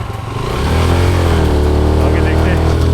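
A motorcycle engine revs hard and steadily as the bike labours up a high mountain climb, loud and continuous, with a voice talking over it.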